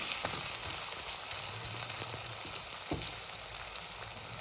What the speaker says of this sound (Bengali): এবার এটা আমি ভালো করে নাড়াচাড়া করে দেবো।